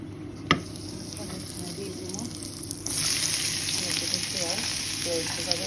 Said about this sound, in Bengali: হালকা একটু ভাজি করে নেই, তারপরে মাছগুলো তুলে নিলাম।